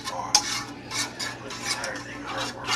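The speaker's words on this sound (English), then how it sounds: "I just let it fry in the pan a little bit" Tomato sauce frying in a pan while being stirred for enchiladas: a utensil scrapes and clinks against the pan in repeated close strokes over a soft, steady sizzle, with no talking.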